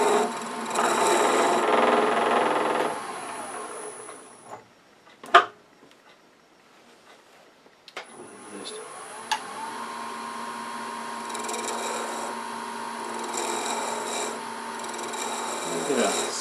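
A skew chisel parts off a wooden wand spinning on a lathe, giving a rasping scrape that cuts out into near silence with a few sharp knocks before the turning noise resumes.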